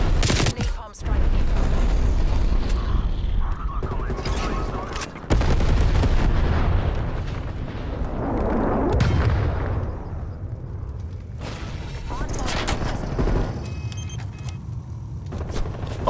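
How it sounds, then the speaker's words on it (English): Napalm strike explosions and gunfire in a Call of Duty Black Ops Hardpoint league match, a loud continuous wash of blasts and shots with heavier bursts near the start and middle, under occasional player voices. "Napalm strike."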